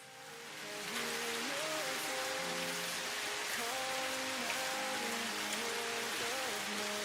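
Heavy rain pours steadily in Satisfactory, a dense even hiss filling the scene from the first second onward, accompanied by soft game music tones and no talking.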